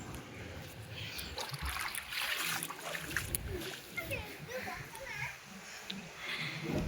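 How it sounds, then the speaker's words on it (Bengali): Water from a clogged rooftop drain pours and splashes down to the ground below. A noisy, uneven rush of falling water runs under a person talking. "আর নিচে কি হারে জল পড়ছে"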